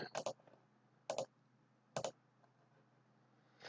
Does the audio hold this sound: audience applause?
no